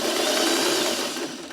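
A sewing machine stitches a wonky crumb quilt block in a rapid, continuous whirring run that is close and fairly loud, easing slightly toward the end, with no talking.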